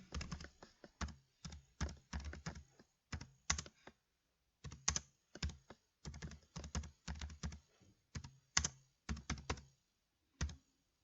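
Computer keyboard typed on during a school computer-class presentation lesson, quiet clicky keystrokes in uneven bursts with brief pauses, no voices over it.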